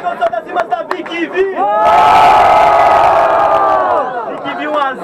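A crowd at a student rap battle in Guarulhos erupts in loud cheering and shouting that swells for a few seconds after an MC's speech, then fades back to talk.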